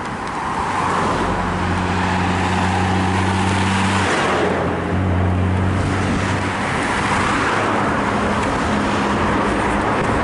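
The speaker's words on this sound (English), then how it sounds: "So I'm like walking in the traffic, which is like stupid." Steady roar of road traffic passing on a busy street in Santa Elena, Antiguo Cuscatlán, El Salvador, on New Year's Eve, with low engine hum rising and falling as vehicles go by, continuous and fairly loud throughout.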